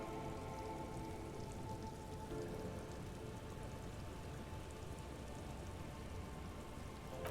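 Soft, even rain patters without a break in Disco Elysium, quiet and distant, with a faint low ambient tone beneath it and no voices.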